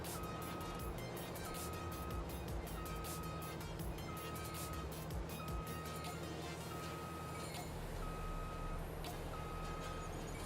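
Repeated truck reversing beeps in Farming Simulator 22, evenly spaced tones sounding steadily over a continuous engine rumble and background machinery.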